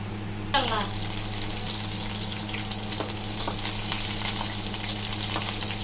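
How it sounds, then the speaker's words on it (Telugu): Green chilies and peanuts fry in hot oil in a pan on the stove, giving a steady close sizzle with a soft crackle that starts abruptly and holds throughout. "కొంచెం లైట్గా ఇలా వేపుకుందాం"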